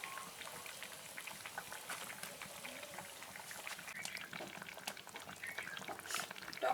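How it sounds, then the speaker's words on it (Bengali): A pot of Bengali sour fish curry with fish heads and green chillies boils quietly, a soft continuous bubbling with small pops and light clinks that stays fairly faint and even, growing slightly busier toward the end. "টকটা ফুটছে"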